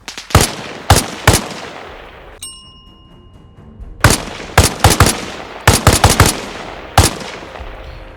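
Sniper rifle fire in the video game Arma Reforger, loud sharp shots with ringing tails, in irregular clusters around a short quiet gap, up close and with no talking.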